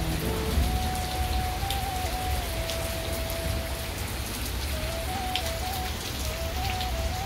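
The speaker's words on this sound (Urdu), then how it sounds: "پیارا موسم، بہت پیاری بارش" Steady early-morning rain, around six o'clock, falls on surfaces in a continuous dense patter that stays even and fairly loud throughout, with a faint thin tone drifting in the background and no voices.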